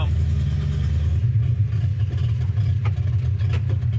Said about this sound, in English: How about that thumping cam? Boom, boom, boom, boom.